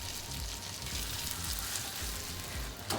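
A slice of French toast frying in a hot pan, a steady soft sizzle with faint crackling bubbles, fairly quiet and close, with a brief scrape near the end.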